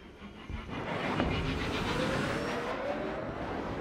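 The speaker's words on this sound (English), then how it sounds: "Yeah, that's a lot more powerful, these engines." Spaceship engines in the video game Frontier Pilot Simulator build into a powerful, steady roar that swells after the first half second and holds loud, with a faint rising whine over it.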